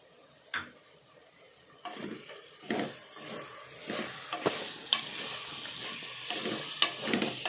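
Green chillies, ginger, garlic and mint frying in a pan while being stirred: a steady sizzle with repeated scraping strokes of a spoon and occasional clinks against the pan, close and clear.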